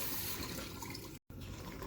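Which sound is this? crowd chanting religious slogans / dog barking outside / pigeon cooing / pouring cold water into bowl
pouring cold water into bowl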